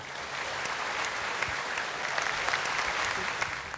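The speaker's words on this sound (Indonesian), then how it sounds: "Tepuk tangan dong untuk Pak Yusuf Kalla" A studio audience at a television talk show claps in dense, steady applause for several seconds, with scattered sharper claps standing out from the even roar.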